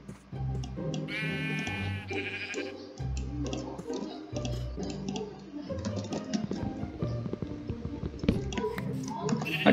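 Sheep bleating in the Minecraft 1.18 video game, a short wavering bleat rising over busy game music and clicking keyboard taps, fairly close and moderately loud.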